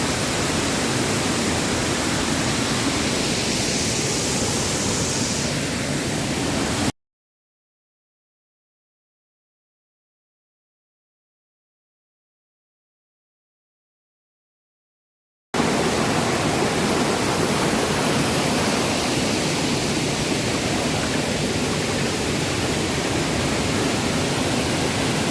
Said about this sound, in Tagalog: ikutin natin yung paligid ng falls